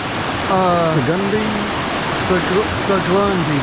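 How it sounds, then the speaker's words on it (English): A waterfall at a creek crossing in the 100 Mile Wilderness rushes with a steady, close, loud roar heard from about 20 feet away, while people talk over the noise. "We were about 20 feet away from these falls."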